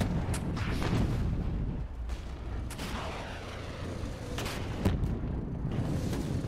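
Artillery bombardment in a modern tank strategy game, a continuous heavy rumble with repeated deep booms and blasts layered over one another, loud and sustained.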